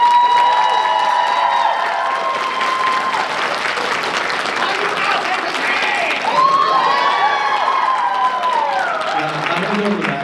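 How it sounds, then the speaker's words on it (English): A convention panel audience at an anime event breaks into applause and cheering, a steady dense wash of clapping with whoops and shouts rising over it for the whole stretch. "Can we give David a round of applause?"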